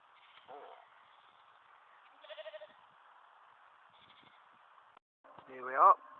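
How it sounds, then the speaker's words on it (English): Young sheep bleat in short wavering calls near Manningtree, one quieter bleat early and a loud, close one near the end, over a faint outdoor background. "Plenty of young sheep about."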